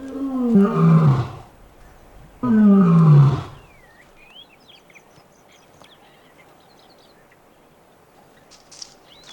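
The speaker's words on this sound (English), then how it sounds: "Lions also advertise their presence by roaring. The sound can be heard for miles." Lions roaring in the wild, two deep, powerful roars close together that fade into quiet ambience with faint bird calls afterward.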